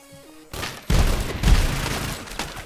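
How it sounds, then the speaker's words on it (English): Fireworks go off in the background in a rapid series of booming, crackling bursts after a short quiet lead-in, dense and fairly loud with a couple of stronger thumps. "sorry if there's fireworks in the background."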